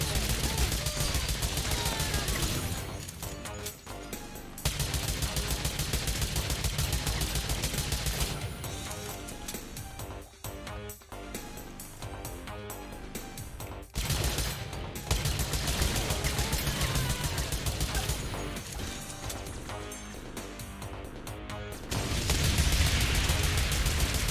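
Rapid gunfire bursts and heavy weapon blasts from a video game shootout, including a bazooka, loud and dense throughout with brief lulls and no talk.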